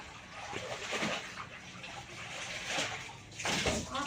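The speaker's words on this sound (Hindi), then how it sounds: "मशीन चला दें क्या तुम्हारे लिए ताजे पानी की?" A home water pump machine fills fresh water, giving a continuous rushing, splashing flow at moderate distance, with faint bird calls in the background.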